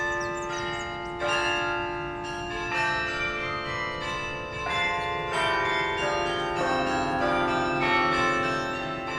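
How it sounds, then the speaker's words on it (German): Church bells of the German St. Gertrud congregation in Stockholm's old town ring out in a dense, overlapping peal, each strike ringing on steadily and loudly throughout. "Eine wichtige Aufgabe von Glocken und Glockenspielen war natürlich auch Signale an die Stadt zu geben."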